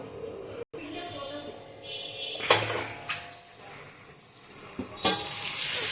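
Chicken liver, boiled beforehand, fries in a pan with a steady sizzle, broken by a few clattering stirs against the pan.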